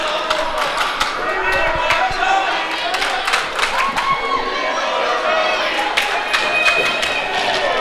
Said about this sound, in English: The crowd showing their support for Tony Sly.